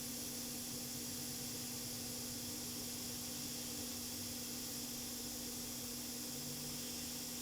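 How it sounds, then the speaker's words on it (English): A hot air rework station with a very narrow nozzle blows heat onto an iPad Air logic board, giving a faint, continuous hiss over a soft, steady hum. "I'm using a very narrow hot air nozzle for this job."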